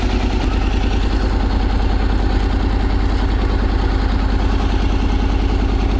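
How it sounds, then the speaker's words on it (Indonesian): A Honda X-ADV 750 scooter-style motorcycle idling while warming up after two weeks unused: a steady, rapid low engine pulse with a mechanical clatter, loud and close, running evenly throughout. "bagi panas enjin."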